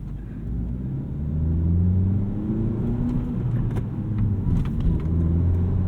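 A 2017 Honda Civic Si with a manual gearbox and aftermarket shifter revs and pulls through the gears while driving, a steady close rumble rising and falling with rev changes, no voices over it.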